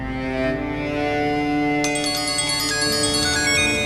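Mobile phone ringing with an incoming call, a melodic electronic ringtone playing continuously and growing brighter partway through, moderately loud with no talking.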